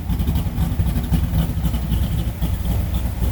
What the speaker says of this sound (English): You can't mistake that Hemi rumble.